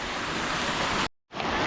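Water is released down a stream channel at a natural site near Vang Vieng, Laos, making a loud, steady, close rushing flow that briefly cuts out near the end.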